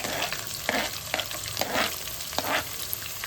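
Chopped onion sizzles in hot oil in a pan for chicken pulao and is stirred with a few scraping strokes, producing a soft, close, steady frying hiss with no voices.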